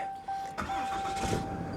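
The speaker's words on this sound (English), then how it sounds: "Let's turn on the truck and see." A pickup truck engine cranks briefly and catches, settling into a steady mid-pitched idle, close by, with a faint electronic chime tone running through.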